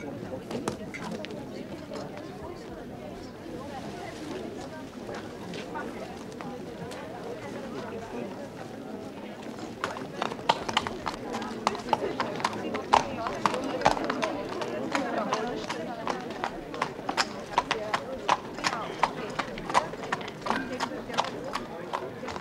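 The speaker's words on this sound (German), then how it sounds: "Hol mir mein Pferd." A horse's hooves clip-clop in a steady, brisk rhythm on hard ground in a town by an army barracks, beginning partway through and continuing under people talking.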